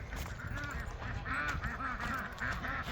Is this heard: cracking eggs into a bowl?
no